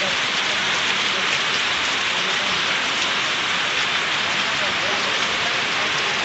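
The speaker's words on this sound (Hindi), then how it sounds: "और बारिश को पड़ते हुए पूरे दो घंटे हो गए लगातार।" Dense, unbroken downpour in Bihar, India, hisses evenly throughout, with no break in the steady rush of rain.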